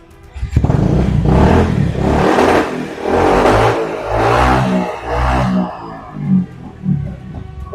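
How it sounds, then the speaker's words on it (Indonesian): Motorcycle with a smoothly bored-out exhaust revved several times in close, loud bursts, each rev rising and falling before a couple of short blips near the end. "Jadi kita geber tipis-tipis ya."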